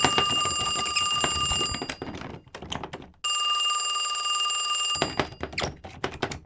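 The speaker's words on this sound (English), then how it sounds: "the phone rang." A telephone rings loudly in two long bursts of bright metallic bell trilling, with a short silent gap and a few sharp knocks between the bursts.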